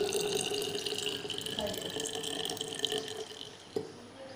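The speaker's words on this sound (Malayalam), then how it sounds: "ഇനി അതിലേക്ക് ഷുഗർ സിറപ്പ് ഒഴിക്കുക." Sugar syrup pours into a raw mango kulukki sarbath drink with a steady liquid splash and trickle, close by, plus a few small clinks near the end.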